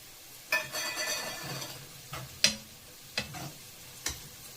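Curry leaves frying in hot oil for a homemade lemon pickle, a soft bubbling sizzle punctuated by several sharp stirring clacks of a spoon against the pan; no talk.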